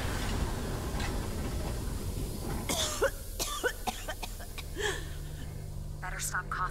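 A character in Westworld Awakening VR coughs from smoke in several short, harsh bursts over a busy game soundscape, with faint voices and ticking clicks in the background.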